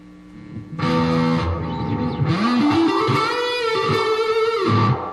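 Heavily distorted electric guitar through a guitar amp's high-gain channel, thick saturated chords and a bending note ringing out loudly for several seconds.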